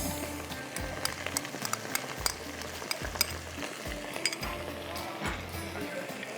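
Garlic frying in a pan for saag qeema, a steady sizzle with scattered clinks and taps of utensils against the pan throughout.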